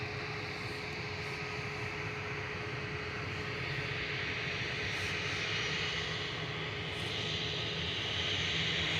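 Ryanair Boeing 737-800 jet at Manchester Airport, bound for Gran Canaria, producing a continuous loud engine roar with a steady whining tone that builds slightly over the span, with no voices.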